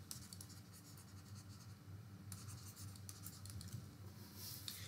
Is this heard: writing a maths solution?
yes